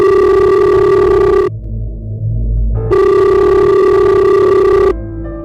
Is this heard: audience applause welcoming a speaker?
no